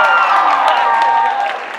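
A live audience cheers and whoops loudly throughout, a dense sustained roar of crowd voices with scattered shouts, easing slightly near the end.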